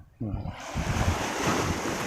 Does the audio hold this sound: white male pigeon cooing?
no